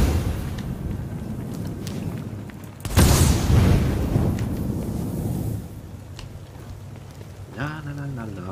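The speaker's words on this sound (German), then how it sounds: "Die explodieren." A sudden loud boom from exploding objects in the video game Tom Clancy's The Division erupts and rumbles for a few seconds amid ongoing game sounds, with voices talking now and then.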